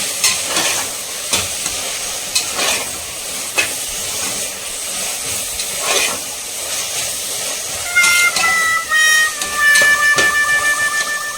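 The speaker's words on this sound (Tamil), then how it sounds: "புதினாவும் கொத்தமல்லியும் ஒரு கைப்பிடி அளவுக்கு எடுத்து வச்சிருக்கேன். லைட்டாக வதக்கிட்டு" Handfuls of fresh mint and coriander leaves are sautéed in a pan for a meat curry, giving a steady close sizzle and hiss with intermittent scraping stirs and a rising steamy whistle near the end.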